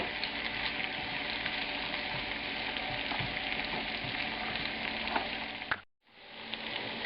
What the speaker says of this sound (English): The sliced onions go in and begin moving them around to break up the rings a little bit.